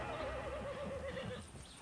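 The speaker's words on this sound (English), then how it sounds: "I'm not taking you, you stupid horse." A horse in the video game Far Cry 6 lets out a single wavering neigh, fairly clear against a soft ambient game background with a faint thud of hooves.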